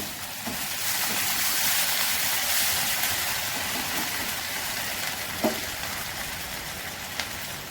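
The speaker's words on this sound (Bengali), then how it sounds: "তেলটা গরম হয়ে গেছে, তেলে রসুন কুচি দিলাম।" Chopped garlic fries in hot oil in a home kitchen, giving a loud, steady sizzle with a few faint clinks of a utensil.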